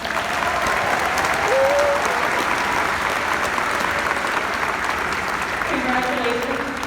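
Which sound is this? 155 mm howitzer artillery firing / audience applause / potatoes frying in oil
audience applause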